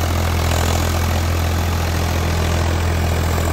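Steady, loud rumble of a Swaraj 744 XT tractor's diesel engine running nearby, a deep continuous throb with no change in pace, alone without voices.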